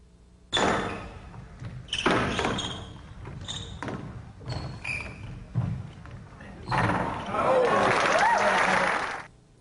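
Squash ball struck repeatedly during a rally featuring a counter drop shot, sharp thuds off racket and walls in an irregular rhythm, with crowd noise and applause rising toward the end.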